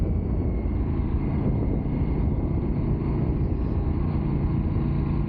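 Aprilia RS457 motorcycle engine pulling hard through the gears, a loud continuous rasping drone recorded close with heavy wind rush and no pauses.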